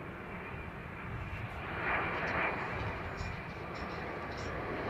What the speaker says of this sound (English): we've got the Emirates Airline Foundation livery 380 inbound